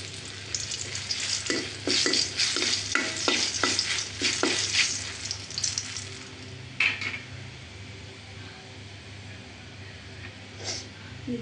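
Spices brown in oil with a bay leaf for tamarind sour curry, a steady sizzle under repeated clinks and scrapes of a utensil against the pan, busy at first and then settling into quieter frying.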